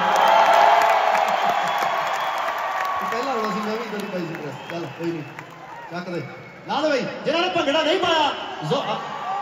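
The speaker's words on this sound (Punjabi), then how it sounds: "ਇਹਦੇ ਲਈ ਵੀ ਜ਼ੋਰਦਾਰ ਤਾੜੀਆਂ ਭਾਈ।" Concert crowd at a tour show in Dallas roars with cheering and applause, loud and dense at first, then thinning as a voice talks over the ongoing crowd noise.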